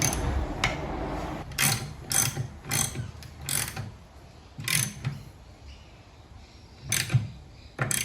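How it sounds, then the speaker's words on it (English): A socket wrench ratchet tightens bolts on a Victa two-stroke mower, giving bursts of rapid clicking in short repeated strokes with pauses between, close and fairly quiet. "Then we'll grab our socket and torque them down."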